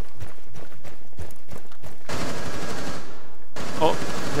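Gunfire in the video game Rainbow Six Siege: a string of sharp single shots comes first, then a loud sustained burst that cuts off abruptly before the end.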